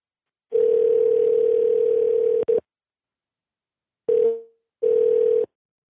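A landline telephone dial tone hums steadily and loudly for about two seconds, cuts off, then returns in two short bursts after a pause.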